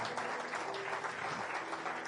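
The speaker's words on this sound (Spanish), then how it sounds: "un fuerte aplauso al Señor" A church congregation applauds in a steady, dense wash of clapping, fairly faint and distant in a large room.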